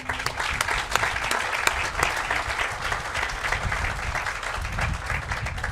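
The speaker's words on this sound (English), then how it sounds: "I would ask that we give them a round of applause as well" Steady applause from an audience at a STEM building announcement, given for members of the legislature, with continuous clapping sustained throughout at an even, moderately loud level.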